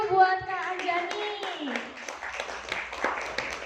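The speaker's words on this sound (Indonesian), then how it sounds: "Yuk tepuk tangan dulu yuk buat Kak Anjani." An audience claps for a guest speaker at an inspirational talk event in Bumiaji, Batu, with a scattered round of applause rising after a brief voice at the start.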